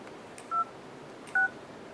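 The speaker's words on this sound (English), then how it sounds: "you can quickly find a contact just by typing on the 12-key keypad here" Keypad tones from the dialer of a Motorola DROID 3 Verizon phone: two short, clean electronic beeps spaced about a second apart over a faint steady hiss, with no voices.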